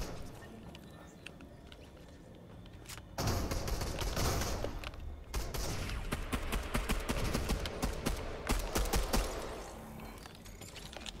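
Pistol gunfire in Fortnite, a quick string of sharp, loud shots in bursts after a quieter opening, close up and crowding together with other game sounds.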